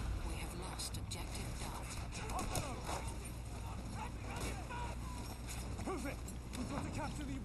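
Cavalry horse galloping in Battlefield 1 hardcore gameplay on the Suez desert map, steady clip-clop hoofbeats running throughout amid game noise and someone talking over it.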